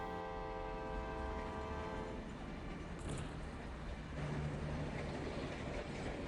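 A train rumbles and clatters steadily in Final Fantasy VII's Midgar, with a sustained horn-like tone in the first two seconds, then continuous rolling noise with no talking.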